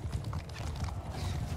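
A slow cavalry horse in the medieval battle game Mount & Blade II: Bannerlord clops along in a short, faint stretch of hoofbeats over a muffled battlefield rumble.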